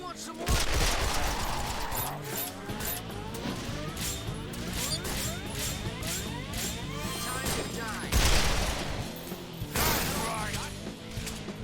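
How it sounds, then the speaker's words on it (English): Dense video-game gunfire aimed at a gangster, in sustained bursts and rattling volleys with mechanical clatter, loud and continuous, with a louder burst near the end and a voice speaking over it. "See if I can shoot the rest of this chunky gangster apart."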